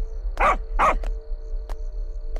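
A dog barks twice in quick succession, loud and close, followed by a couple of sharp clicks over a low steady hum.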